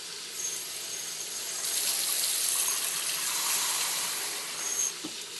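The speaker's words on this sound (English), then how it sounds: "add a little bit of water" Water pours steadily into a bowl while coconut chicken curry is cooked in a kitchen, a soft continuous gushing stream lasting several seconds with no talking.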